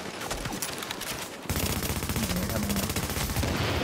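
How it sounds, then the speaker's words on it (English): Rapid gunfire in a video game rattles out in dense automatic bursts, loud and close, growing heavier and more continuous halfway through. "They shot me in the back!"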